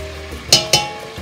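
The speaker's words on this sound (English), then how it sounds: "Now you put your beans in." Beans are tipped into a hot pan, giving two quick, close bursts of hissing sizzle and clatter in rapid succession, then a quieter fade.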